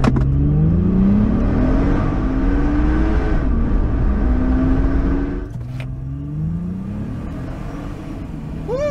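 A supercharged Jeep Gladiator accelerates hard on a straight road, its engine note rising steadily through two long pulls with a shift between them, loud and close with no talk.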